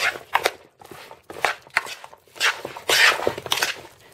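A balsamic vinegar and olive oil marinade for turkey skewers is stirred in a bowl with a spoon, producing close, rhythmic scraping strokes in quick bursts with short pauses between them.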